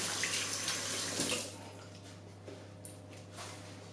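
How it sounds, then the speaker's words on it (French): Tap water runs loudly while hands are washed beneath it in a kitchen during brioche baking, the splashing stream fading after a second or so into quieter trickles and a few small drips. "Je me lave les mains."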